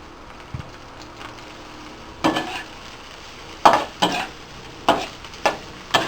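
Peas and corn stir-fried in a pan, with quiet sizzling at first and then a series of sharp spatula scrapes and stirs against the pan in an irregular rhythm, close and fairly loud.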